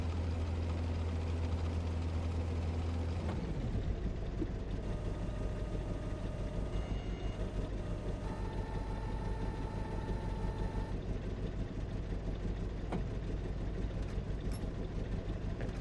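Low, steady rumble of a mining machine's engine idling in Gold Mining Simulator 2, a deep hum that shifts down slightly early on and then continues evenly, with no voices.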